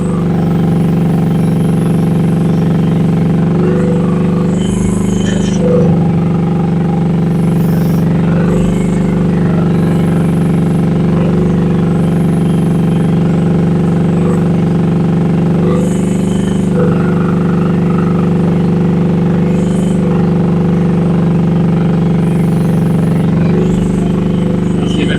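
A Rippa R10 one-ton mini excavator runs with a steady, loud diesel drone throughout, its hydraulics and metal parts adding intermittent clanks and whines as several movements happen at once.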